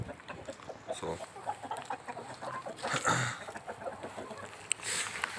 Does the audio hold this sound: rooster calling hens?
yes